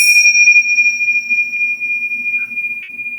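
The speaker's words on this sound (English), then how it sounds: "we are going to ring our bells to begin class" A small bell rings with a sustained, clear tone that slowly fades, with a couple of faint extra dings near the end.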